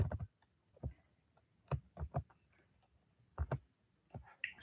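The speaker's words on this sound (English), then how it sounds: "just give me a few seconds to type it." Keys clicking on a computer keyboard, typed during an online English communication skills lecture: short bursts of sharp taps in uneven clusters, close and fairly quiet with pauses between groups.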